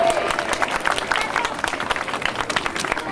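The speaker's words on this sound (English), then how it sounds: "give them a big round of applause, please" Audience applause at an outdoor winter holiday festival in West Chicago, a dense steady wash of many hands clapping that holds for the whole stretch, with some crowd noise mixed in.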